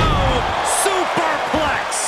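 A superplex off the top rope in the WWE 2K22 wrestling video game, a few heavy thuds landing amid loud, continuous crowd noise and commentary.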